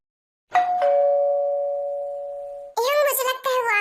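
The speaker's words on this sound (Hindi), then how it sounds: "मैं डोरबेल रंग करता हूँ" A doorbell rings at home with a two-tone ding-dong, the second tone held and slowly fading, then a voice begins talking right after.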